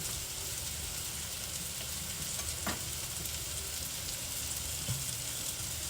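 Butter and shrimp sizzle in a skillet while being stirred, a constant close frying hiss with occasional faint scrapes, no one speaking.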